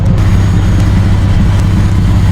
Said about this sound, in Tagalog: Yan, ito na yung exhaust natin.